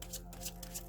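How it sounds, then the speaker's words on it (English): Tarot cards shuffled by hand give a soft, quick riffling patter, several light flicks in steady rhythm, close and quiet with no talking. "I will shuffle a little more"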